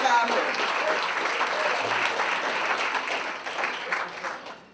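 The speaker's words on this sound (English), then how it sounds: "Let's give him a round of applause." Steady, dense applause from a large audience at a National Action Network event, a continuous wash of many hands clapping that holds level for several seconds, then tapers slightly at the end.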